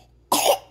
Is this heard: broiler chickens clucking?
no